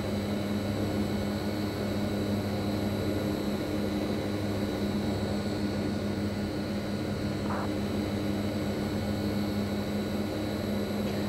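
Steady turboprop drone from the Hawker Siddeley HS 748 engines of an Air Contractors flight in a P3Dv4 simulator in cruise, a constant even hum with no variation and no talk.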